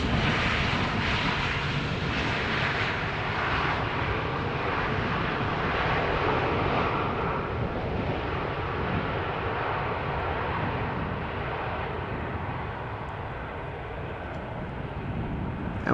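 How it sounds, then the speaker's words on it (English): Loud, sustained broadband roar of a jet airliner using its thrust reversers on landing at Amsterdam Schiphol, holding steady for several seconds and easing slightly toward the end, with no voices over it. "A little bit of reverser being used there."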